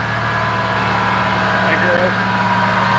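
An 1800 HP compound turbo Cummins diesel running on a dyno, a steady loud drone with a faint whine layered over it, while people talk over the noise.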